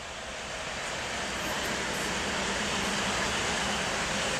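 A PKP Intercity Pilecki passenger train runs along long-distance tracks in light snowfall, producing a steady, broad roaring rumble that swells slightly as it passes, with no speech.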